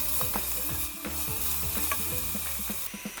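Chopped onions in two tablespoons of hot oil being stirred for Moroccan harira soup, a close steady sizzle punctuated by repeated rhythmic spoon scrapes and taps.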